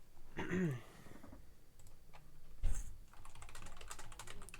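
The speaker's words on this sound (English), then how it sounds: "Just a little typing." Soft, rapid keyboard clicks patter steadily throughout, with a brief voice near the start and a louder bump midway, all fairly quiet and close.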